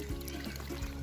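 Water poured into a pot for planting lotus at home, a steady close pour and trickle filling the whole short moment with no talk.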